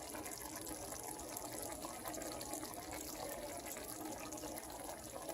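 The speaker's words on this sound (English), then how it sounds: "Bubbling." Dinner simmering in a pot on the stove, a soft continuous bubbling and fizzing, faint and steady with no talking.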